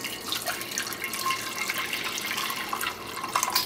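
Jello Mixchief mixture pours steadily into an 8x8 pan, a continuous liquid splashing and trickling that runs close and even for the whole stretch with no voices.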